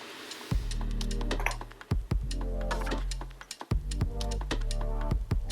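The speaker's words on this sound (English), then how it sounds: "I'm gonna type here" Keys clatter on a computer keyboard in short bursts of quick, close clicks, separated by brief pauses, over a steady low hum.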